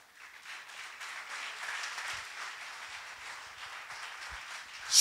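Church congregation applauds, a soft, even wash of clapping heard from some distance, steady for several seconds before swelling sharply at the end.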